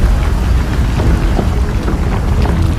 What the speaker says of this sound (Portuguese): A chuva aumentou e já estrangulou as bocas de lobo aqui na Vila Saí